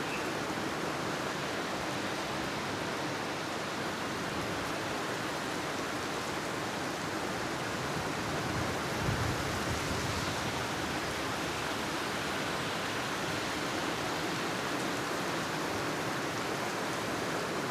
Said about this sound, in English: Windy and wet.